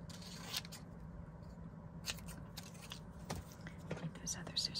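Soft, quick snipping of scissors through paper, several short cuts close by, with quiet breathy sounds in the background.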